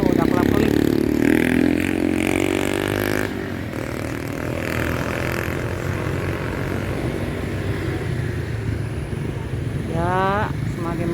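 Propeller airplane approaching to land at Soekarno-Hatta airport, a loud, close engine drone with shifting whine that grows and holds, with people talking over it.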